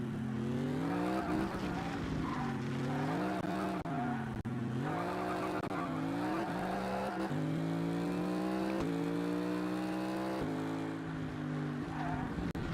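A Ford Mustang race car skids and squeals its tires in a PS2 racing game, a loud, continuous howl of engine and tire noise with wavering pitch and no talk.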